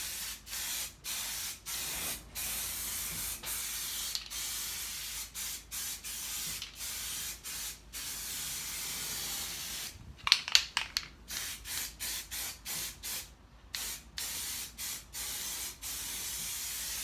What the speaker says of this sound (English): right, so let's get some paint on it